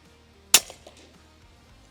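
A single sharp shot from an FX Impact M4 air rifle fired at a target outdoors, a crisp crack followed by a faint short tail and a quieter click near the end.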